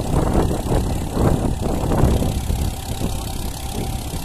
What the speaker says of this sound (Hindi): ये मैसी सादा ट्रैक्टर है 1035, जिस पर गन्ना जोतने वाला सुगर कैलवीटर चल रहा है